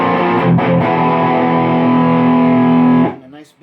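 A distorted electric guitar played through a CAM842 amp sustains a thick, steady chord loud and close for about three seconds, then is cut off and rings down briefly.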